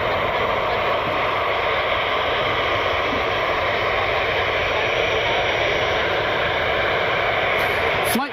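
A Gulfstream jet holds on the runway at Cleveland Hopkins airport, its engines giving a steady, loud, broad roar and whine that continues without a break over the whole stretch.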